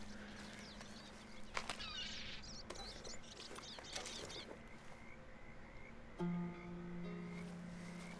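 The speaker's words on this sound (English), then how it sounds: "I can hear so many crows." Crows caw in the Red Dead Redemption 2 game world, several calls scattered in the first half over a steady outdoor ambience, followed by a low sustained hum near the end.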